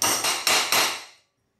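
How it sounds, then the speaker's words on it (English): Four sharp, loud metal strikes come in quick succession as a hammer straightens a bent garage door bracket, the last ringing briefly before fading to silence. "used the hammer to straighten out it as well"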